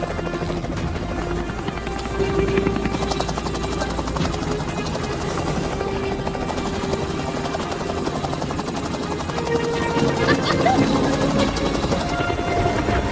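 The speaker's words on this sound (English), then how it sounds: "Helicopter gone." A steady helicopter rotor drone as it flies away over the Brecon Beacons, thudding and whining continuously at moderate volume with outdoor wind noise.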